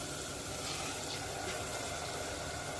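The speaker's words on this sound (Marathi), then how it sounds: "पाणी ॲड करायचं आहे" Water pours steadily into a pressure cooker holding washed toor dal and softened tomato, a continuous close, even gushing splash with no talk over it.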